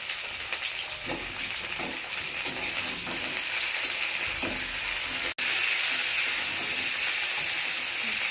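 Vegetable stalks fry in a hot pan, giving a steady close sizzle and hiss with occasional stirring scrapes.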